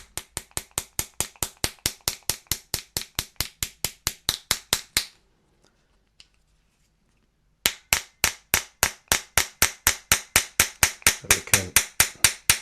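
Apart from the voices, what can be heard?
hammer smacking a pin in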